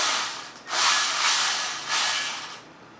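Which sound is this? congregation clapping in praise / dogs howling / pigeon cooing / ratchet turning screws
ratchet turning screws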